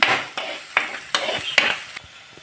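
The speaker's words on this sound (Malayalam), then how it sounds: "ഇനി നമ്മൾ ഇതൊന്ന് വാടുന്നോടും വരെ ചെറുതായിട്ടൊന്ന് ഇളക്കി കൊടുക്കണം." Onions frying in a pan for spicy Kerala fish curry are stirred in about four quick scraping strokes, each bringing a burst of sizzle and a light clink of the spoon against the pan, close and clear with no talk.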